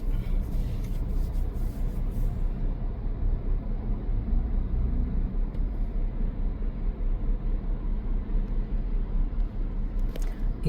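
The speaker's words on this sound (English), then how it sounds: "Very busy traffic on this specific intersection." Continuous low rumble of busy city intersection traffic, a steady wash of engines and tyres with no distinct single vehicle standing out, moderately loud and unbroken throughout, with no voices.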